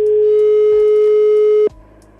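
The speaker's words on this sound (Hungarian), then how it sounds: "Jó, akkor maradjunk abban, hogy én most felhívom Mónit" A steady telephone tone sounds while a call is being placed, one continuous unbroken beep holding for about a second and a half before cutting off abruptly into quiet line noise.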